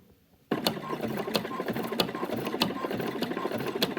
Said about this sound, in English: So when you hear the needle hitting, you can hear it cutting through the fabric like that.